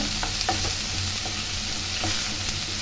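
Onions with rock salt sizzle steadily in a pan while a spoon scrapes and stirs in a few short strokes, close and continuous with no talking.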